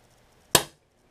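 A single sharp shot from a Bumblebee gun powered by whippet cartridges, one crisp crack with a short decaying tail, close and alone in an otherwise quiet setting.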